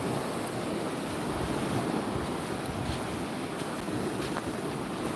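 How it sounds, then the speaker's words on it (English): Ocean surf breaking on a beach at sunrise gives a steady, loud wash of rolling waves, mixed with wind buffeting the microphone throughout, with no voices. "I'll let you look at the surf and the sunrise one more time"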